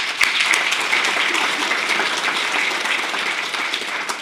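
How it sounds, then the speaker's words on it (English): Conference crowd at a cybersecurity event in Cape Town applauds, a loud, dense and continuous wash of clapping that holds steady before easing slightly at the end. "So maybe just give yourselves a round of applause for that as well."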